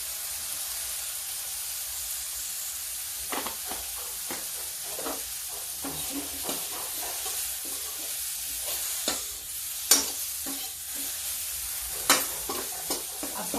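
Ground roasted spices go into okra and radish frying in a pan, giving a steady hiss of oil with scattered sharp spatula scrapes and taps, louder near the end, no voices.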